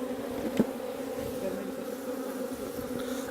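Honeybees buzz around a hive box as a steady, droning hum from many insects close by, continuous and even throughout with a brief louder pass near the start and no voices.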